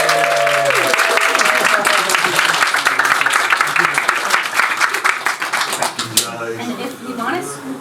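Loud, dense applause from an audience for a singer at a solstice song concert, steady clapping with a few voices, tapering slightly near the end.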